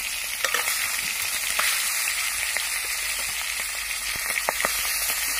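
Four pieces of fish sizzle steadily in oil in a small wok on a river boat, giving a continuous bright crackling hiss with small pops and faint stirring ticks and no voices.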